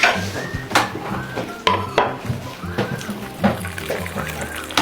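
A cooking pot is lifted, shifted and set down in a kitchen while preparing a stuffed 'beli bağlı' dish, giving repeated metallic clanks and knocks at close range, with water running and utensils clattering nearby.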